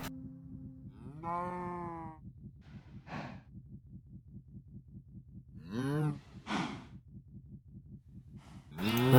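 Cows mooing in Minecraft, several drawn-out, wavering moos scattered over a steady rhythmic pulsing background, the last one loud and close.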